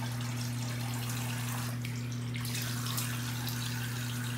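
Cold water runs from a tap in a continuous, steady splashing hiss over a low electrical hum, with no talking.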